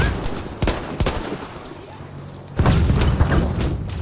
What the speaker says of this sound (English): Oh, airship's shooting us.